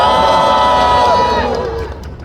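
A crowd at an outdoor union rally in front of Incheon City Hall roars in welcome, a loud sustained cheer of many voices with shouts that slowly fades toward the end.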